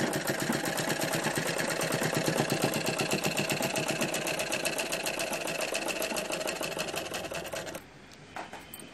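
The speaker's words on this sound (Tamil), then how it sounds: "அந்த லேஸோட நடுவில் போகிற மாதிரி வச்சுட்டு ஸ்டிச் பண்ணுறோம்" A sewing machine runs fast and steady, stitching lace onto a sleeve with a dense mechanical rattle that continues for several seconds before stopping, followed by a faint clack.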